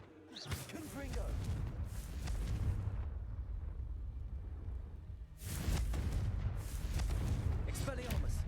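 A Confringo blasting spell explodes in a Harry Potter video game, with two long roaring blast bursts separated by a quieter gap and a voice talking over them.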